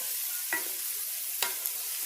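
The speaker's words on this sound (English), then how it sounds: "Do you hear that sizzle?" A steady, close hissing sizzle of steak frying in a pan, with a couple of brief clicks over the constant crackle.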